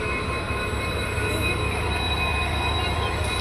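Steady rumble of a locomotive rolling on rails to couple onto a train, with a high metallic squeal running throughout, continuous and fairly loud.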